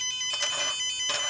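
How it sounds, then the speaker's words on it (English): A shrill buzzer in a Bluetooth key-finder fob module sounds in two sharp beeps, loud and close, over a steady high-pitched electronic tone. "this buzzer here in the module gives the sound"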